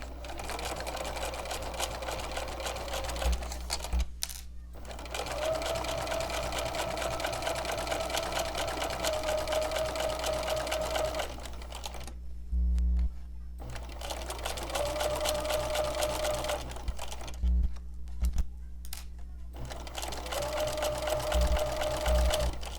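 A sewing machine stitches along the seam of a flanged quilt binding, running steadily at close range in long continuous bursts with a few brief pauses between passes.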